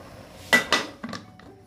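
A few metallic clinks of cookware while filling a pressure cooker, two sharp knocks close together followed by lighter taps, in an otherwise quiet kitchen.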